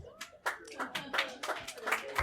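Audience clapping during a stand-up comedy special, short bursts of claps over about two seconds, fairly close and uneven.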